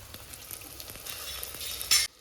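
Small and large onions, chopped together, sauté in a hot pan with a steady sizzle and occasional stirring taps, growing louder near the end before cutting off.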